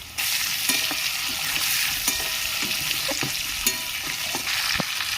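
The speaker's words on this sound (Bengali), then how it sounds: "মাছের তেলেই আমি কেটে রাখা আলুগুলো দিয়ে দিচ্ছি আলুগুলো লাল করে ভেজে নেব" Cut potatoes fry in oil left over from frying bata fish, a loud, close, continuous sizzle broken by the clacks and scrapes of stirring in the pan.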